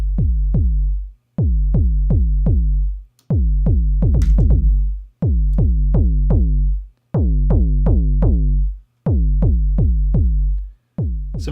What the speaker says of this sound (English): we have this drive control that we can dial up to taste